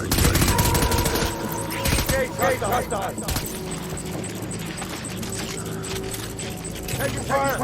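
Gunfire in the Death Stranding video game crackles in dense, overlapping bursts throughout, loud and busy, mixed with music and other game effects.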